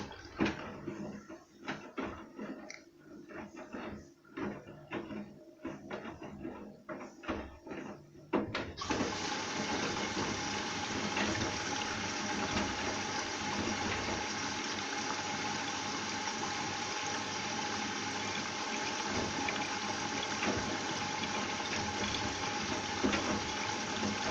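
A front-loading washing machine fills with water during a 30-degree wash of dark laundry. The water rushes in steadily and fairly loudly, turning from broken splashing into a continuous gush after about eight seconds, with no talking.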